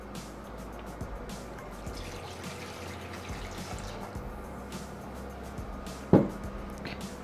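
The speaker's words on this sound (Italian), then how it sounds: "Iniziamo la ricetta versando all'interno del boccale l'acqua." Water poured into a Thermomix TM6 mixing bowl for olive-oil bread roll dough, a steady close trickle running for several seconds and ending with a single sharp knock near the end.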